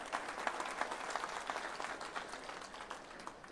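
An audience at a large union convention hall bursts into sustained applause, a dense even patter of many hands clapping at a moderate distance for the whole stretch.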